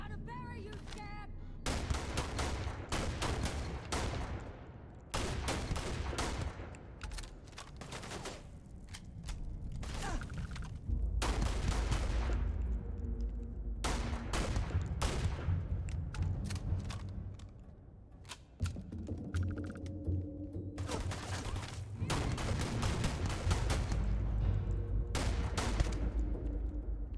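Rapid bursts of gunfire in the Starfield video game, repeated volleys and single shots crackling through a long firefight with loud, dense shooting nearly throughout and brief lulls between bursts.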